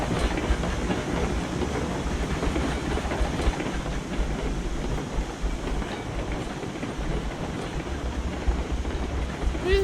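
In the Railroads Online game, a locomotive rolls along the rails with a steady, moderate rumble and soft rhythmic wheel clatter throughout, with no talking.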